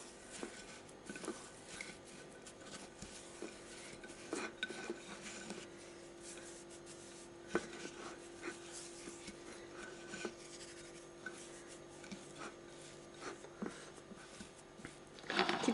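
A raw salmon steak is dipped and rubbed in a dry salt mixture, making soft, gritty rasping and scraping that runs steadily at close range but stays quiet, with occasional sharper scuffs.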